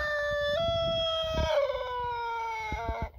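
A rooster crows inside an aviary, one long drawn-out call close by with harmonic tones, then a couple of short clucks at the end.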